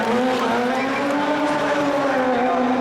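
A remote control car drives with a loud, sustained high-pitched engine whine that rises and falls, with a hint of tire squeal, during a live stunt show.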